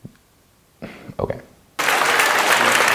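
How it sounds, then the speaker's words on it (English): Crowd of women applauding at a live show, sustained loud clapping that bursts in after a short spoken word and a few quiet bumps. "they seem to like it because they're clapping"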